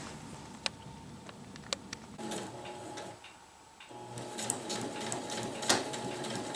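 A sewing machine stitches hammock fabric with a stretchable footbox, giving soft mechanical whirring bursts broken by sharp clicks, pausing briefly midway before running again, fairly faint and close.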